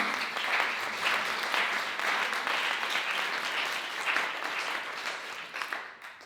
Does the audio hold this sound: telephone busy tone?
no